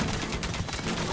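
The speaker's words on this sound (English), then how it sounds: "Fire siphon firing away." Fire siphon siege weapon firing in the Age of Mythology game, a dense burst of rapid crackling, booming shots layered over battle noise, loud and continuous.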